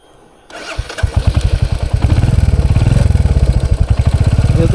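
A Royal Enfield Hunter 350 motorcycle starts after a brief quiet moment. Its single-cylinder engine catches with a loud, close, rapid thumping beat that settles into a steady pulsing idle.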